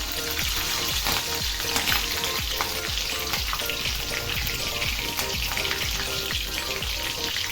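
Loud, vigorous crackling and sizzling of finely chopped green chillies in hot oil with cumin, close up, with a steady rhythm of spatula scrapes and stirring throughout.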